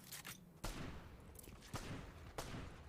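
Bursts of video game gunfire crack out in a few sharp volleys over a steady background of game ambience, with short gaps between shots.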